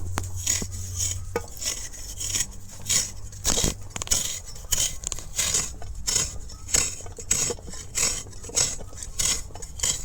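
Coconut scraped with a traditional blade grater, a steady run of rapid, close scratching strokes with short pauses, plus a low hum underneath, while jackfruit-seed milk barfi is being made.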